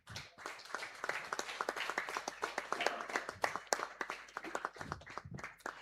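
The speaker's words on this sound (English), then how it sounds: "can we please have the applause going?" Steady applause from a crowd at an installation ceremony in Goa, dense overlapping claps sustained for several seconds, moderately distant.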